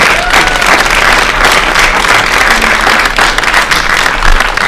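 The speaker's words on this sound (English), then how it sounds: "Your applause and aloha to Dr." A crowd at a movie night screening in Hawaii gives a panel a loud, sustained round of applause that fills the whole stretch without pause.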